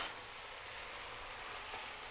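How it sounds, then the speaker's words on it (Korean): Food stir-fried in a pan, heard as a steady, dense sizzle that stays close and even from start to finish, with no voices. "다시 볶아줍니다."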